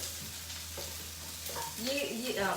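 Onions sizzling in a pan while being stirred, a soft continuous fry with scraping and clattering of a spoon growing louder near the end, recorded during a live home-cooking session.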